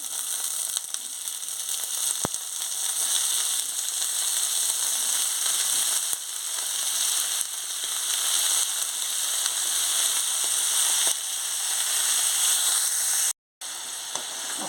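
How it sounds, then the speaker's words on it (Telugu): Eggplant pieces fry in a pan with ginger garlic paste for a village-style curry, making a steady, close sizzle with crackling pops that runs almost unbroken for about fifteen seconds, with no voices. "అల్లం వెల్లుల్లి పేస్ట్ అయిపోయింది ఇప్పుడు వంకాయలు వేసుకోవాలి"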